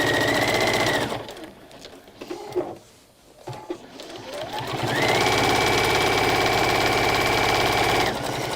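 A sewing machine stitching fabric and lining runs in a steady whirring burst, pauses for a couple of seconds with quieter handling noises, then starts again and runs continuously before stopping.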